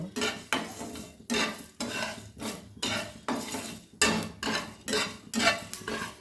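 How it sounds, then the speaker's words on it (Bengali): Dry spices are stirred and scraped around a hot dry pan for a Bengali sorputi fish curry, giving repeated rhythmic scraping strokes, loud and close, with no talking. "মশলাগুলো আমি শুকনো খোলায় এবার ভেজে নেব"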